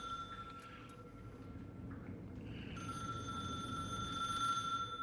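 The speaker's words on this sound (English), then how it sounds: "Oh, phone call." A telephone rings in the video game The Suicide of Rachel Foster, a steady electronic ring that grows louder and fuller partway through, heard alone with no talking.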